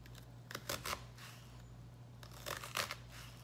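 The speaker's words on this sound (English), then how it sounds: "So I'm going to continue chopping this one onion." Soft, sharp cutting taps come in small bursts, a knife chopping an onion on a board, quiet and close, with pauses between strokes.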